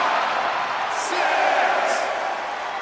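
A virtual arena crowd cheers during a WWE 2K25 wrestling match, a loud continuous roar with occasional whistles and shouts swelling through the noise.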